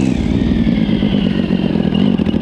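A Yamaha Raptor ATV swapped to a 1050cc engine pulls hard in first gear, with a loud, close, continuous raspy engine roar and some clatter.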